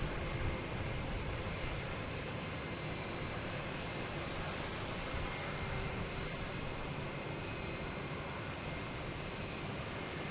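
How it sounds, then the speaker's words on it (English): An Embraer E175 jet airplane roars at Boston Logan Airport, a loud, steady engine rumble and hiss that fills the whole stretch with no talking. "We have an E175 here,"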